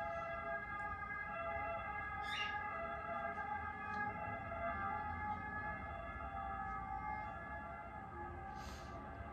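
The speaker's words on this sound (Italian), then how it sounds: "ambulanza sempre quando devo fare i video." Ambulance siren sounding at a distance, a faint steady wail held under constant background noise throughout, with no one talking.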